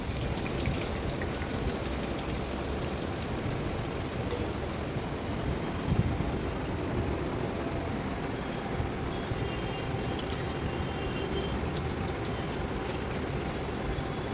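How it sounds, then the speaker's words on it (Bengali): Potatoes frying in a pan of oil, a dense continuous hiss and sizzle like steady rain, even in loudness throughout with no voices. "সব আলুগুলো একসাথে দিয়ে ভালো করে আবার আলুগুলোকে ভেজে নিতে হবে লাল লাল করে।"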